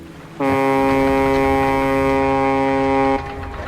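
A winch hoist runs after the brake is released in the game Little Lighthouse of Horror, a loud, steady droning tone that starts abruptly, holds for about three seconds, then cuts off.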